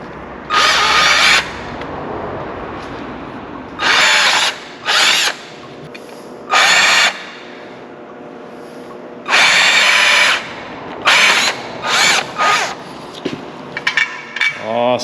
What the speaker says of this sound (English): Now we drill our 1/4 inch.